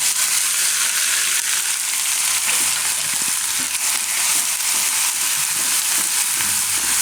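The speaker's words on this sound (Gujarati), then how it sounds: "તેલ આપણું હવે ગરમ થઈ ગયું છે તો એમાં આપણે પહેલાં જીરું નાખીશું અને આ મસાલો જે આપણે વાટ્યો એ આદુ મરચાં લસણ ને હળદર" Cumin seeds and a ground paste of ginger, chili, garlic and turmeric sizzle steadily in hot oil in a pan, a loud, continuous close crackle and hiss with no talking.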